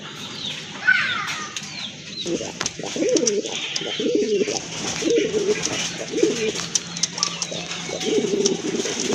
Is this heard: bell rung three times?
no